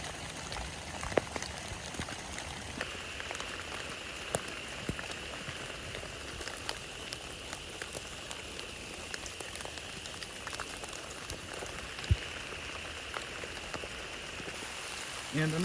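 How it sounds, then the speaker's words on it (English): Heavy rain falls steadily outdoors in Alabama woods in January, a dense continuous hiss of drops with scattered sharper patters on nearby surfaces and the camera, even and unbroken throughout. "this rain is coming down pretty hard"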